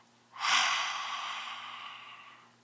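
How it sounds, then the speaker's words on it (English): A single forceful lion's breath exhale in pranayama practice, a long breathy whoosh that starts sharply, then slowly tapers over about two seconds, close and alone. "And exhale."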